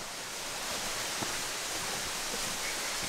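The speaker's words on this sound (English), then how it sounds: "But up here is the cool waterfall." A small waterfall along an outdoor hiking spot, heard as a steady, even rush of falling water that sounds like broadband noise, constant and moderately loud with no voices.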